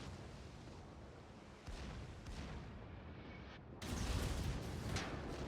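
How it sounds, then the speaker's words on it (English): The Scharnhorst battleship fires a main gun salvo in World of Warships, a deep booming blast that jumps out over a low rumbling ambience, followed by heavier rolling thunder, with no voices. "First salvo didn't hit."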